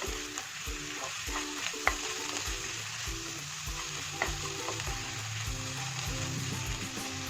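Taro stir-fry (chembu thoran) sizzles steadily in a pan on a Kerala home stove, with a rhythmic scrape-and-stir pattern repeating throughout, close and fairly quiet, with no voices.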